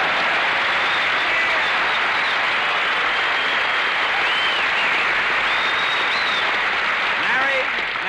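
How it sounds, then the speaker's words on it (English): Studio audience applause at a wartime radio show broadcast from Fitzsimmons Hospital in Denver, Colorado, a dense, sustained roar of clapping that fills the whole stretch without pause, loud and close. "Applause."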